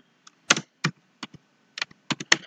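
Keystrokes on a computer keyboard typing a school name into a front page design, in short clustered bursts of crisp taps with brief pauses, close and fairly clear, with no talking.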